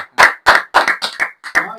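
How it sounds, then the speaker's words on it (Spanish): Six loud, close hand claps ring out in a short, slightly uneven sequence with brief silences between them, clearly a small group or a single person clapping, and no talk over it. "Un aplauso para eso."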